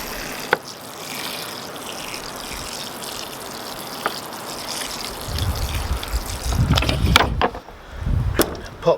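Water trickles and splashes onto compost in trays of onion seedlings, soft at first and then a fuller, nearby pour with a few knocks of wood or tray handling.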